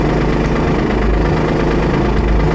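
A Mazda RX8 engine with problems idles loudly and close by, a constant low, rough rumble with slight uneven pulsing throughout.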